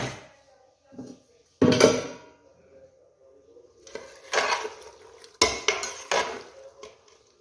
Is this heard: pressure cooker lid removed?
yes